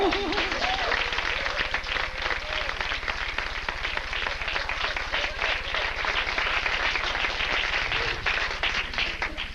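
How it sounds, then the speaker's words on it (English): An audience claps steadily after a talk, a dense stretch of applause with individual claps audible, heard with a low steady hum underneath and some faint voices mixed in. "Your applause is for yourselves completely."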